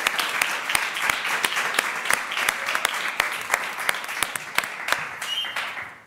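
Warm studio audience applause for a guest on a Spanish-language entertainment program, many distinct claps packed into a continuous roll that fades at the end.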